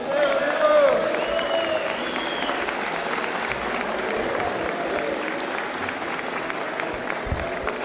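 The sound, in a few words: applause in the Brazilian Chamber of Deputies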